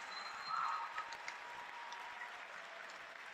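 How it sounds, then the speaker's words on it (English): Audience applause at a high school scholarship night, a soft, fairly distant patter of clapping that swells briefly near the start and then holds steady and thin. "let's give Jeff a round of applause"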